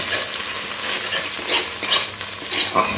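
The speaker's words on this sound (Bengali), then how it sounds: "আর এখানে দিয়ে দেব রসুন কুচি, আদা কুচি। রসুন আর আদাটা একটু কাঁচা গন্ধ যাওয়া অবধি ভাজতে হবে।" Chopped garlic and ginger frying in oil for mixed fried rice, a close, continuous sizzle with rhythmic stirring swells and spatula scrapes throughout.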